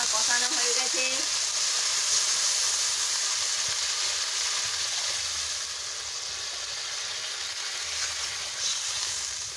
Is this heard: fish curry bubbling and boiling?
yes